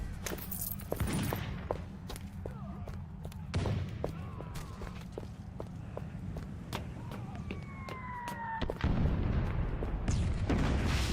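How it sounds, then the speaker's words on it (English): Grand mortars firing in the Van Helsing video game: sharp repeated booms punctuate a dense, rumbling battle soundscape, with a louder heavy blast near the end. "They're using the grand mortars."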